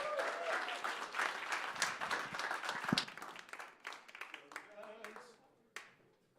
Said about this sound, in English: Let's hear a round of applause.